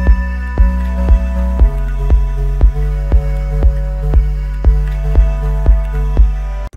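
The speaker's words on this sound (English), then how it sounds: "you can hear there's a pumping effect going on" A four-on-the-floor kick drum in an electronic track, with sidechain compression making the sustained pads and synths duck and swell on every beat in a steady pumping rhythm, loud and upfront.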